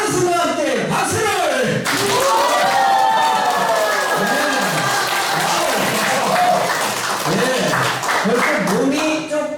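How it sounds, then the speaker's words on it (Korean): Lecture audience at a Dongguk University talk on small-shop branding breaks into cheering and applause, with shouting voices rising and falling over steady clapping, loud and close throughout. "자, 환호성과 함께 박수를!"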